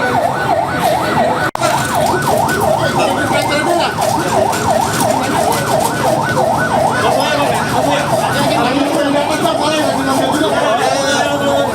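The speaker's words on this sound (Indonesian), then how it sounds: "Banyak ambulan belakang." Ambulance sirens wailing near the scene of a commuter train collision at Bekasi Timur: a loud, continuous rising-and-falling siren cycle over heavy traffic noise, with voices in the background.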